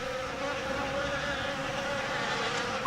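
Bees buzz in a steady, dense drone for a storybook adaptation sound effect, a continuous close hum with no breaks and no voices.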